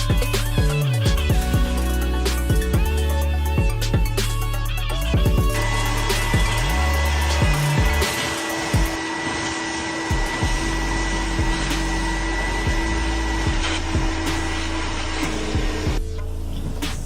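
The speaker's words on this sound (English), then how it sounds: "This is a steamer, extractor, all-in-one, whatever you want to call it." A Vapor Clean Desiderio Auto steamer-extractor runs with a steady, loud whirring motor drone and a hissing airflow, its pitch shifting a little near the start, held for the whole stretch with no talking.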